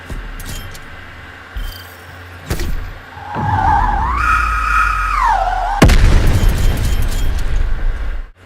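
A sharp explosion from the Diesel launcher in the video game Black Ops Cold War, following a rising whine, with a loud boom and rumbling debris that carries on under game ambience.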